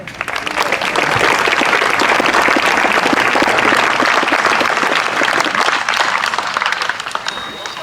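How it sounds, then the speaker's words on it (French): An audience at an imperial-themed festival on a château esplanade claps warmly for several seconds, a dense, loud wash of many hands that swells quickly and then tapers slightly toward the end. "Nous pouvons tous les applaudir."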